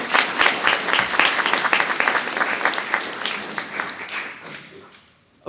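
A lecture audience at UC Berkeley applauding, dense clapping from many hands that holds steady and then fades out near the end, with a brief sound at the close.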